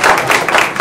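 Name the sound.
audience applause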